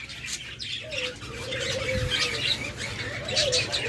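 Lovebirds in a bird shop give thin, shrill calls and squawks among other small birds, fairly faint, over a busy low background hum.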